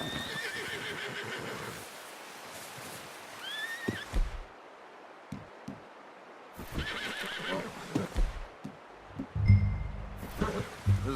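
A horse in Red Dead Redemption 2 whinnies twice with rising, wavering neighs, while hooves clop and shuffle nearby in short bursts and scuffs on the ground.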